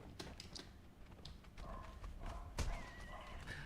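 A horse gallops in a video game, its hooves drumming in a steady clip-clop with a neigh partway through, loud and close over faint background game sounds.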